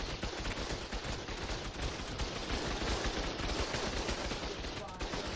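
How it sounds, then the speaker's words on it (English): Steady turret gunfire in the survival game Ark pours onto the player in a nonstop rattle of rapid shots, loud and close, running without a break and with no voice over it. "I'm just gonna sit here and soak bullets. I'm taking their bullets right now."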